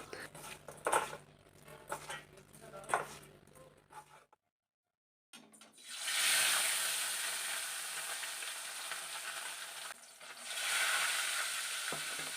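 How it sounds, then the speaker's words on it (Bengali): Rohu fish fries in hot oil with a steady, bright sizzle that swells and holds, preceded by clinking utensil and pan handling sounds and a brief silent gap, close and fairly faint. "মাছটা ভাজতে বসিয়ে দিয়েছি"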